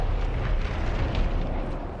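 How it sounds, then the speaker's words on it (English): Explosion in the video game Dragon Age: Inquisition, a sustained loud rumbling blast with dense low-end roar and crackling debris filling the whole stretch, no voices. "As you can see, that explosion was over there."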